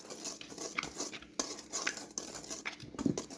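Dry muffin ingredients for milk chocolate muffins being mixed in a bowl, with steady scraping and clinking of a utensil against the bowl and brief louder knocks near the end.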